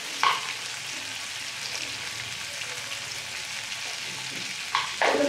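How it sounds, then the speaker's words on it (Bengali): Onions with a pinch of salt frying in oil for a duck egg curry, a continuous close sizzle with brief sharper stirring scrapes near the start and end. "পেঁয়াজগুলোকে ভালো করে ভেজে নিই।"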